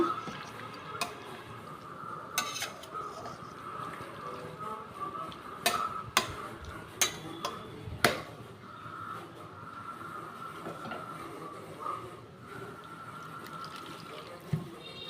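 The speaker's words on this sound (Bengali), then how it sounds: "আমি একটুখানি জল দেব এর ভেতরে একটু জল দিয়ে দিলাম" Water poured into a pot of boiled potatoes and Malabar spinach, a soft steady trickle with a few clinks and knocks near the pot, no talk.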